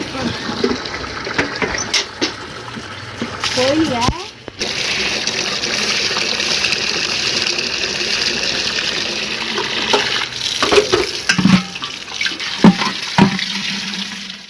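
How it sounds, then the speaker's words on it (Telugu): Tap water gushes steadily into containers being filled at a village supply, a loud continuous rush with brief breaks and clatter as vessels shift. A voice is heard at times. "ఎన్ని వాటర్ పట్టుకున్నా ఇక వచ్చినంత వరకు వాటర్ అయితే పట్టేసుకోవాలి"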